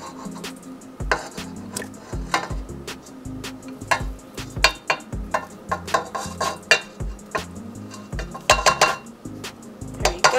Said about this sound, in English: I'm going to take my spatula and I'm going to scoop in my butter